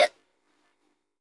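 A single short hiccup, close and clear, cut off abruptly and followed by near silence.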